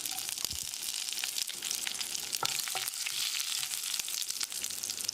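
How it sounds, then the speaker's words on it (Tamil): Bright, crackling sizzle of curry leaves and torn dried red chillies frying in oil for egg avial, with scattered pops and a few stirring scrapes, close and continuous. "1 கொத்து கருவேப்பிலை, 2 வரமிளகாயை கிள்ளி போட்டு பிரட்டி விட்டுடலாம்"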